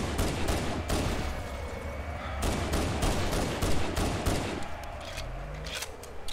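Sustained gunfire from Phantom dropships in the video game Halo: Combat Evolved Anniversary, with dense bursts of rapid shots and explosive cracks repeating loudly throughout, over a rumbling low background.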